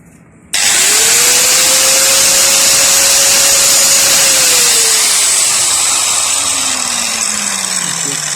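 A small cutting disc on a power tool cuts around a starter part in one continuous loud, close grinding whir that rises in pitch, holds steady, then slowly drops as it bogs under load, with no voices.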